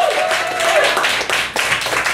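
Audience members at a Baltimore comedy festival show keep clapping in a lively, continuous patter, with a short tone at the start and the clapping thinning slightly near the end.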